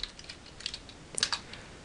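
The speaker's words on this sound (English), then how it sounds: "I do not have a barcode scanner, so I'll be typing them in." A few scattered, quiet keystrokes on a computer keyboard while product items are entered into a QuickBooks point-of-sale system, with a brief cluster of clicks near the middle and no talking.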